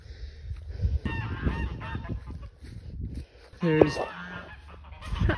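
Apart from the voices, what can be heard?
guard geese honking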